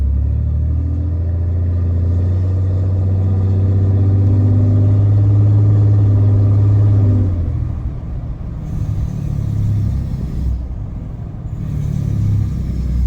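Deleted 4th gen 6.7 Cummins diesel truck heard from inside the cab with the rear window open, a loud steady low diesel drone and rumble that drops and shifts partway through, with no talking.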